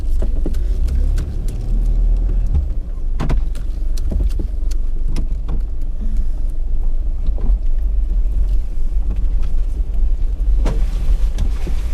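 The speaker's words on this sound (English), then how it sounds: "That clanking noise is my winch rope hook." A winch rope hook on a 4WD clanks in scattered sharp metallic knocks over a constant low engine and road rumble as the vehicle crawls along a forest track in Victoria's Macalister State Forest.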